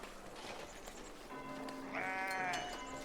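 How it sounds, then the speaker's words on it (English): Sheep bleat in a farm-building video game set on hilly ground, a wavering sustained bleat standing out near the end over a soft, steady ambient bed of game sound, with no talking. "The sheep are amazing."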